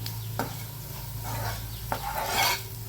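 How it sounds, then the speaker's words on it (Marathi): Spices sauté in oil in a pan for a pea and potato sabzi, with a soft, steady sizzle, a low background hum and a few sharp stirring clinks from a spoon against the pan. "हे तेलातच परतून घ्यायचं."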